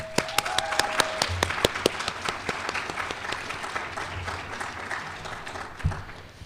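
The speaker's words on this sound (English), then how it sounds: "That deserves some applause." Audience applause at a student senate induction ceremony, a crisp burst of many hands clapping that starts strong, thins out gradually and fades over several seconds, heard indoors without talking.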